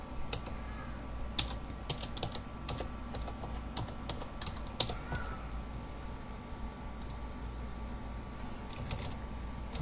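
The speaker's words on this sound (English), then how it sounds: "Type in your text." Someone types steadily on a computer keyboard, a near run of quick, irregular key clicks over a constant background hiss, with no talk.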